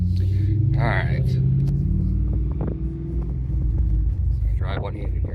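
A car, apparently fitted with a Hooker Blackheart exhaust, drives along with a low, continuous engine rumble and a couple of brief rises, while someone talks over it.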